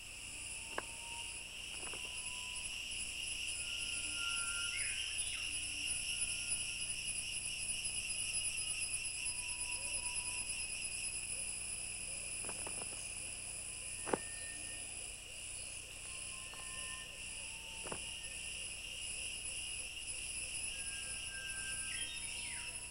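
Crickets and other insects chirp steadily in the wild, a dense, continuous high trill layered in several bands, with a few faint clicks and a distant bird or two over quiet ambient background.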